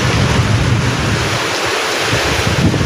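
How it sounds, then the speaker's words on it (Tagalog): Heavy storm rain roars outdoors in a constant, dense wash, with gusting wind buffeting the microphone and a deep rumble underneath, loud and unbroken throughout with no voices. "Sobrang lakas ng ulan, oh. Bagyo pala."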